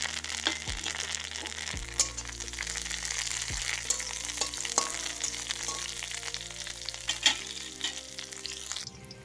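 Leafy greens dropped into hot oil seasoned with five-spice (panch phoron), a bay leaf and a dried red chilli, giving a steady close sizzle with stirring clatter and a few sharp utensil knocks, no talk.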